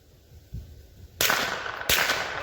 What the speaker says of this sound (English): First shot suppressed